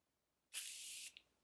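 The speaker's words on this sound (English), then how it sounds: "So lastly, we're going to get into the setting spray." Morphe setting spray misted from a pump bottle in one short, close hiss lasting about half a second, followed by a tiny trailing spritz in a quiet room.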